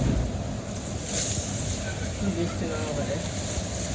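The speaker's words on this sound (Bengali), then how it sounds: "এই পাশে ওই বাতাস আসছে প্রচুর পরিমাণে ঠান্ডা বাতাস" Steady wind rushes across an open microphone with a low rumbling roar, and a voice speaks faintly over the constant blustery noise.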